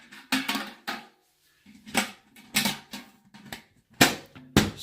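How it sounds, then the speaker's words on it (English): A plastic bear-resistant food canister lid being fitted on the Appalachian Trail gives a series of sharp, close clacks and snaps in irregular bursts, with no talking. "you want to put the lid on here."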